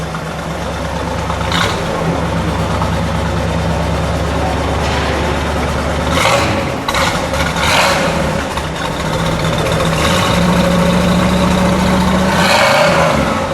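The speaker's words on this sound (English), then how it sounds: "Listen to it idle first, and we'll give it a good rev." A 1965 Pontiac GTO convertible with a 389 engine idles close by, a loud, steady, low rumbling burble with slight fluctuations and a few faint background noises.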